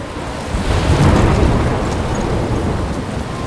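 Thunderstorm in the video game Life is Strange: a deep rolling thunder swell over steady heavy rain, loud and close, peaking early then settling into continuous downpour with no talk.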